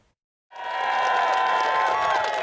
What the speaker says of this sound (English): Applauding the win